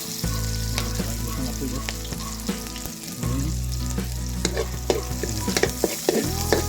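Onion and garlic fry toward golden brown for pork adobo cooked over a wood fire, a loud, dense sizzle with repeated stirring scrapes and knocks against the pan, a steady low hum running beneath.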